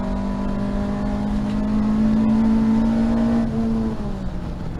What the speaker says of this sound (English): get the power on as quick as I can